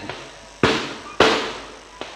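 Three sharp firecracker bangs go off at uneven intervals, each followed by a quick fading rumble, with a softer pop at the end.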